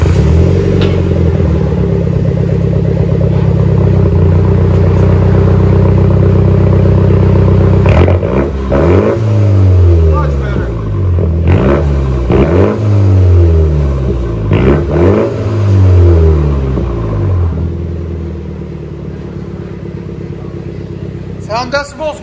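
MINI Cooper S with a muffler-deleted exhaust, idling steadily and then revved in three rising-and-falling bursts before settling back, loud and close, with people talking nearby.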